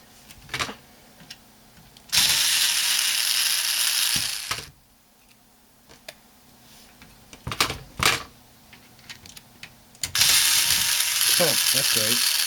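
A rechargeable cordless screwdriver backs screws out of a DirecTV set top box, with two long, close, steady whirring runs and scattered clicks and handling knocks in the quiet stretches between them.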